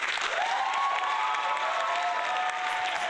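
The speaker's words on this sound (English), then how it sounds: "I just hit the applause." Canned applause sound effect set off by a streamer during a live PlayStation State of Play broadcast, a steady dense wash of clapping and light cheering that holds at even volume for about three seconds, with a faint tonal line running through it.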